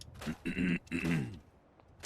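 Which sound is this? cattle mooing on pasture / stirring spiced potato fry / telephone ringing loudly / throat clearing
throat clearing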